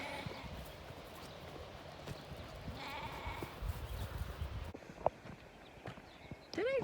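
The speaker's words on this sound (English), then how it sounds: "Rams went that way. Out of way. Ewes are going this way." A flock of sheep, rams and ewes, moves about on a dairy sheep farm with shuffling hooves and a few bleats, one clear bleat near the end, while people talk nearby.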